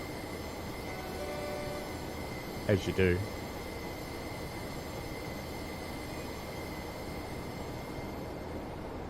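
A tram rolls along its rails in the Tram Sim video game, a steady low rumble throughout with a brief louder clatter near the middle. A voice speaks briefly over it.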